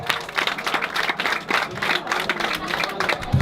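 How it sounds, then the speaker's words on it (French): A crowd claps loudly and steadily for a few seconds, dense applause for winners being announced at an outdoor gathering. "Et merci, on les applaudit bien fort s'il vous plaît."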